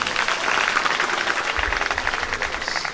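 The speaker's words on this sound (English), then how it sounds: "Can you clap for the good way?" Audience clapping at a school annual general meeting, a steady wash of hand claps filling the hall, fairly loud and continuous with some low rumble, no talk over it.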